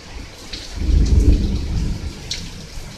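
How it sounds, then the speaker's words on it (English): Heavy rain with a burst of low rumbling thunder swelling in the middle, over a steady wash of rainfall with faint higher patter, no voices. "You know, it's just heavy rains"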